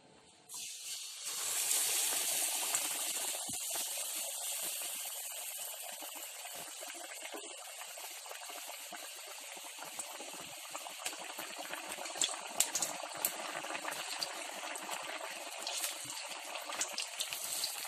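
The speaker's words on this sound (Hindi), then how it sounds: "अब मैं एक एक टिक्की को यूं डिप करके फ्राई कर लूंगी।" Potato tikkis dipped one by one into hot oil in a wok, frying with a loud, steady hiss of sizzling that fills the whole stretch without any talking.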